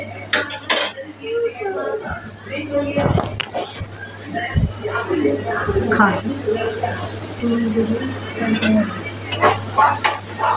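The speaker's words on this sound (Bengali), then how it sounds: "পেঁয়াজটাকে নেড়ে চেড়ে হালকা ভেজে নিব" Onions stirred and lightly fried in a pan: metal utensil scraping and clinking against the pan in irregular bursts, with a faint sizzle, while people talk over it throughout.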